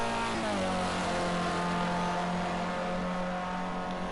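A Formula C open-wheel race car engine in a racing game holds a loud, steady high drone as it starts a lap, with a brief pitch shift early on, alone without talk.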